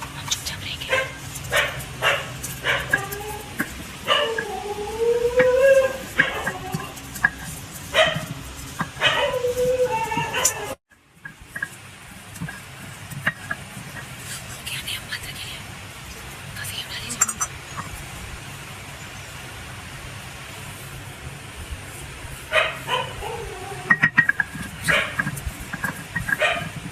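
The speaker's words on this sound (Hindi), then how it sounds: "लेकिन मेरा आवाज़ सुन के भौंक रहा है" A dog barks in a home at night, a burst of sharp repeated barks and yips close by, then quieter scattered barks, with women whispering over it.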